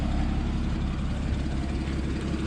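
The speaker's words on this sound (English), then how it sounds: "This exhaust purring away." A Porsche Cayman S 981 with PDK sits idling, its exhaust giving a steady, deep, even burble close by and unbroken for the whole stretch, with no voices over it.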